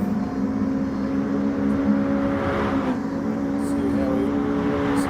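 A race car engine in a sim racing video game drones with a steady, high tonal whine throughout, holding pitch with slight shifts, while a commentator talks over it.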